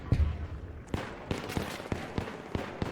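Bursts of gunfire from the video game Arc Raiders crack in a rapid, uneven series of sharp reports over a dull background rumble, moderately loud and somewhat distant.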